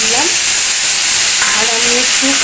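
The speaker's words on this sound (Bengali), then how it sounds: "একটু টমেটো কুচিয়ে রেখেছিলাম সেই টমেটোটা দিয়ে দিলাম" Chopped tomato dropped into hot oil, giving a loud, steady frying sizzle with bright hiss and faint stirring scrapes throughout, with no talking.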